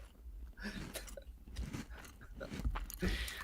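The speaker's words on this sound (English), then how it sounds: "I'm gonna eat a biscuit." A biscuit is chewed close to the microphone: crisp crunches and moist mastication come in an irregular rhythm, fairly quiet, with no talking.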